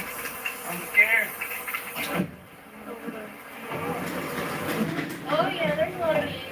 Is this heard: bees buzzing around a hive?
yes